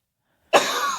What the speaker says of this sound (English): At least I didn't cough directly into their ears.